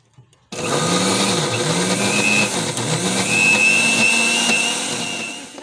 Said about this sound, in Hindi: भाई मिक्सी में मैंने रख लिया है, तो अब मैं इसको चालू करती हूँ।